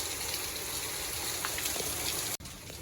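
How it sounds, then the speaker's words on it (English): Steady, dense rain hisses continuously on a surface, then cuts off abruptly near the end. "once it quits raining or at least slows itself down"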